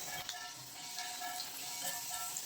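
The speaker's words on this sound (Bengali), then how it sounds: "এবার একটা একটা করে ভেজে নিচ্ছি তেলও গরম হয়ে গেছে" Puri dough rounds frying one at a time in hot oil, a steady close crackling sizzle with faint bubbling pops running throughout, no voices.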